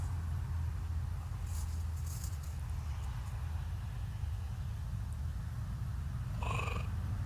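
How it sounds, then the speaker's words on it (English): A puma's low, rumbling purr runs steadily through the clip beneath a constant roar of nearby highway traffic, with a brief higher chirp from the puma near the end. "You're going to hear a purr, another purr, and a chirp."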